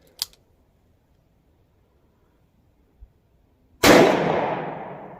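.38 Special revolver firing a single loud gunshot during ammunition testing, a sharp crack with a long decaying tail, preceded by a couple of faint clicks.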